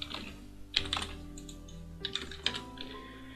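Keys tapped on a computer keyboard while entering dimension values in AutoCAD, a few quick clusters of crisp clicks separated by short pauses.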